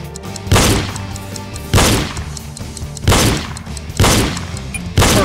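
Gunshots fired at targets in the video game Reload, five loud booming shots spaced about a second apart, each with a short decaying tail over a low musical backdrop.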